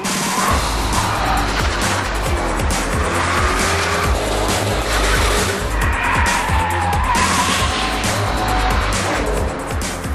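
A 2007 Ford Mustang GT500 engine roars hard with repeated loud tire squeals and skidding, close and continuous throughout.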